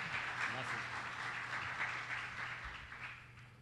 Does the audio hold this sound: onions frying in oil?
no